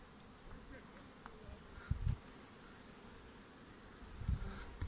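Steady insect buzzing of many kept honeybees at hives in Antalya, Turkey, a continuous droning hum with a couple of louder low thumps, outdoors, no talking.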